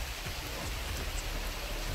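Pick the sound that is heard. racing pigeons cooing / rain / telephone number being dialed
rain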